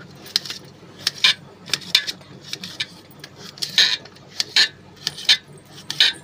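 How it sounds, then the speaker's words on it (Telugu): A knife cuts coconut into small pieces, making sharp, close clicks and taps in an uneven rhythm against a quiet background. "చిన్న చిన్నగా కొబ్బరి ముక్కలు కోసుకుంటానా"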